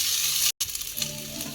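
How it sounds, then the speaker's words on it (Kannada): Mint and kasuri methi frying in a pan for cauliflower pulao, a steady bright sizzle with a brief break and faint stirring scrapes underneath. "ಅದು ಪುದೀನ, ಅದು ಕಸ್ತೂರಿ ಮೆಂತ್ಯ ಎರಡು ಫ್ರೈ ಮಾಡ್ಕೊಳ್ಳೋಣ"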